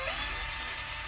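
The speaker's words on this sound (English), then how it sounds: "I'm just gonna drill these two holes slightly just to put a little bit of a countersink in them" A high-pitched power drill whines steadily for a brief moment, countersinking holes in a 1:10 scale model trailer, close and fairly loud, with no voices.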